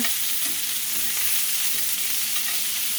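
Pork chops sear on their sides in a hot cast iron pan, giving a constant close sizzle and crackle with a few soft pops and shifts of the meat, with no talking.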